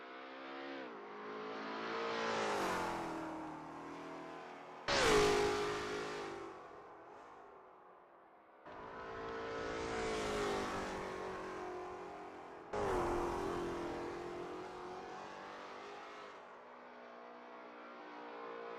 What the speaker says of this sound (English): MkII is getting to grips with the ASRL T70 MkII Spyder in this practice session